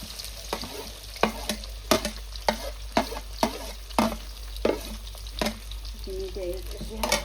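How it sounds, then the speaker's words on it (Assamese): Indian olives (jolfai) sizzle and crackle in a little oil with asafoetida, with a steady frying hiss and repeated sharp clinks of a spatula stirring the pan, close and fairly loud. "হিং দিয়াৰ লগে লগে জলফাইখিনি ভাজি ল'ম"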